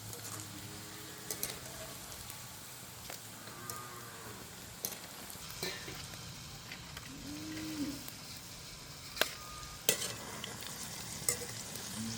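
Food being carefully turned over while frying in a pan outdoors in a village setting, a soft steady sizzle with occasional scraping and clinking of a utensil against the pan, fairly quiet with faint background sounds.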